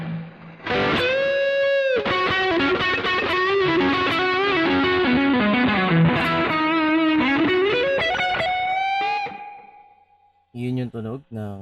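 An electric guitar on the neck pickup runs through a Boss GT-1 with T-Screamer overdrive, drive set at 81. A loud, sustained distorted lead plays bending notes for about nine seconds, fades out, then a few short picked notes follow.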